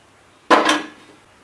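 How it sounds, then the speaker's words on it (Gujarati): A single clattering clunk of a metal pan being set down on a stovetop for tempering fang pan muthiya, a sharp near impact with a brief ringing tail, heard alone in a quiet kitchen. "આપણે મુઠિયા વઘારવા માટે સૌથી પહેલા તાસડો લઈ લઈશું."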